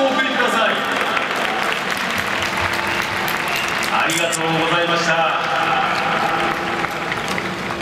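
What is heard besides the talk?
stadium crowd applause after Sky Roll Open Show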